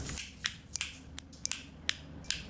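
Sharp, rapid clicking of an energized fuel injector repeats at an uneven rhythm, about eight crisp ticks over a low steady hum.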